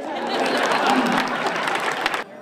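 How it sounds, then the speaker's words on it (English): Applause and crowd noise at a political event where Governor Nathan Deal speaks, a dense steady patter of clapping with some chatter and chuckling, held for about two seconds before it cuts off abruptly. "I thought that'd be an applause round."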